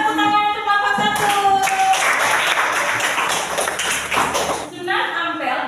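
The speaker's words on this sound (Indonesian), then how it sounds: "mari kita tepuk tangan untuk kelompok 1" Primary school classroom applause for a student group during a lesson, a burst of many children clapping together that swells for a few seconds and then fades, with voices around it.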